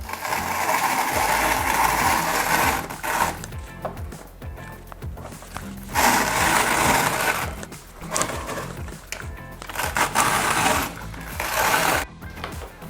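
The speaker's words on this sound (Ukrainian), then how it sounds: "і будемо її натирати на терці" Cabbage rubbed against a hand grater for meatballs, rhythmic scraping strokes in bursts with short pauses between them, close and moderately loud, no talking.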